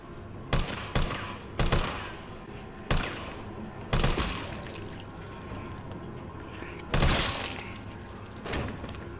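Automatic weapon fire in the video game Resident Evil 3 Remake comes in several loud, short bursts separated by pauses, with softer game ambience in between.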